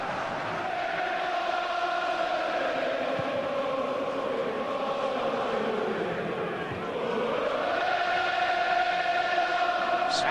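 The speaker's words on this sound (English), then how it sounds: "Crowd have livened up" A large football crowd at a Birmingham City versus Everton match makes a steady, loud roar with rising chant-like swells throughout, with someone commentating over it.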